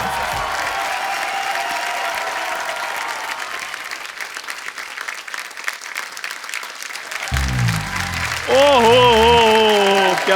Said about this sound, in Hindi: ओ जोरदार तालियां एक बार बाबा जी के लिए।